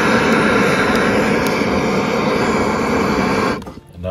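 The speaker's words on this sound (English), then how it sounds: "I have ye old map gas torch here. And what I'm gonna do is I'm gonna blast these through the vent." A MAPP gas torch roars loud and steady as it blasts tumbleweed fire starters through a smoker vent, a continuous rushing hiss that cuts off near the end.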